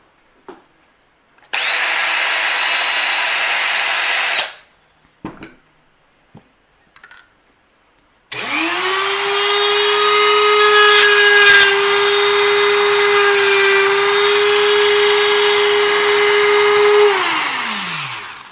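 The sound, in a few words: rotary tool with ball cutter carving wood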